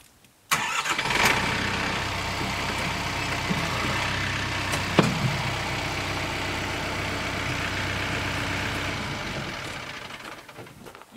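A tractor engine starts up and settles into a steady, low diesel rumble, running continuously close by before fading slightly at the end.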